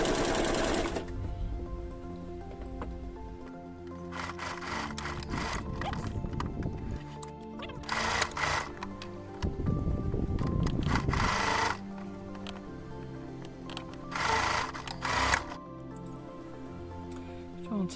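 A serger sewing machine stitches a blue cotton dress, running in fast whirring bursts of rapid clatter separated by short pauses and handling noises, close by.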